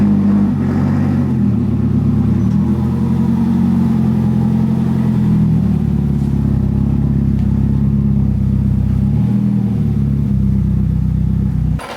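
A Nissan Pulsar GTI-R engine idling and rumbling loudly up close as the car is backed in, a steady low drone with slight rev changes throughout.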